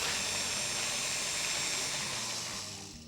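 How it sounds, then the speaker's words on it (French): A kitchen blender purées tomato sauce with two canned pimientos and four spoonfuls of cream, making a loud, steady whirring roar that holds for about two seconds before winding down. "On va mixer 2 pimentos en conserve. 4 cuillères de crème. On mixe."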